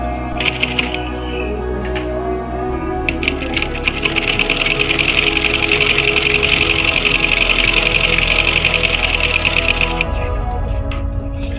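A sewing machine stitches a trouser seam in a long, steady run of fast mechanical clatter, close and loud, with a brief start and stop at the beginning before continuous stitching, then it halts near the end.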